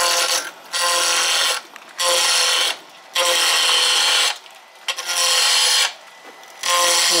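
A spindle gouge cuts into a square block of East Indian rosewood spinning on a lathe, giving loud, close, harsh bursts of chattering cuts lasting about a second each, separated by short quieter gaps where the lathe hums on.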